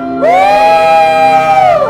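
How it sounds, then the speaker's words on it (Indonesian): A crowd of children and teens at a church youth service shouts and cheers together in one sustained, loud roar that swells up and holds steady before tapering off. "Gak apa-apa kita teriak buat Tuhan Yesus"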